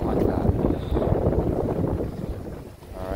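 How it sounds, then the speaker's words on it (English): Strong wind at a country beach buffets the microphone in loud, gusty rumbles that rise and fall over a few seconds, with the hiss of surf beneath. "Very windy."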